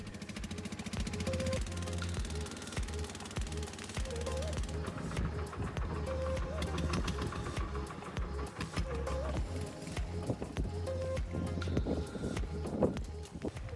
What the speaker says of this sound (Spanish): Volvemos a montar en la barca ferry para cruzar de nuevo el canal.